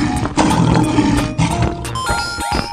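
A cartoon lion roars loudly in a children's animated animal show, with a few bold roaring bursts followed by bright music-like tones near the end and no talking.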